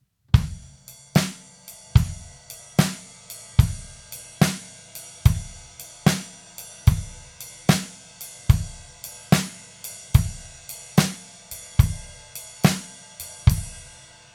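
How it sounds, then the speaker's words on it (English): Drum kit playing a steady shuffle groove, the ride cymbal carrying a triplet feel over bass drum and snare backbeat. The hits are evenly spaced and close, and the cymbal rings between them with no talking. "We could take the shuffle and we could play it on the ride cymbal."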